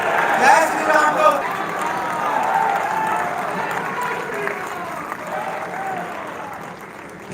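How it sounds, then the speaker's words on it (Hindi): An audience at a Lohri and Makar Sankranti celebration gathering claps, with dense applause swelling at the start and then holding steady before easing off, and crowd noise and voices mixed in. "एक ताली बजाकर उनके स्वागत में खड़क ताली बजाने का भी अनुरोध"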